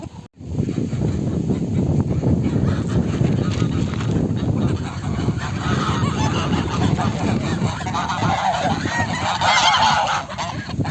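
A male goose honking loudly and persistently up close, harsh repeated calls with wind noise in the background.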